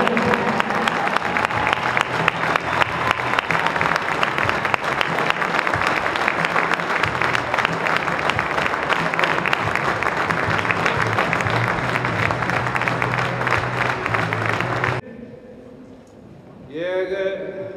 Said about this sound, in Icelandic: Gefum henni góð klapp.